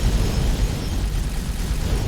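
An explosion in a space combat video game: a dense, loud rumbling blast that holds for a couple of seconds without fading.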